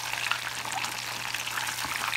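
Guava paste and cheese empanadas fry in hot oil, giving a steady, close crackling bubble that holds at an even level throughout with no voices.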